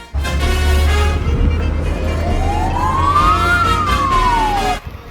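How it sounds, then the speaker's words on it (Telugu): A fire engine siren wails loudly and close, its tone sweeping up slowly and then falling, over a heavy low engine rumble, outside a student hostel in Russia, with no talking. "అప్పుడే ఫైర్ ఇంజన్ వచ్చేసింది."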